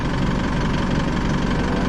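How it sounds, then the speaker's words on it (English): A car engine idles in a loud, steady drone while a Kings Thumper Max Digital air compressor runs off it, a continuous close rumble with no speech. "sorry about the noise of the car"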